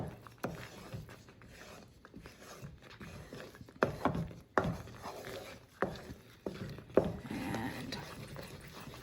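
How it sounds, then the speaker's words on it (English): Almond halwa in ghee stirred quickly in a kadai: a thick, soft scraping and squelching with a few sharper knocks of the spoon against the pan, close and moderately loud. "Just give it a really quick stir"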